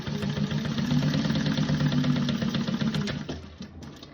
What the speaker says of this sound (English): I'm just going to baste along the bottom to hold that in place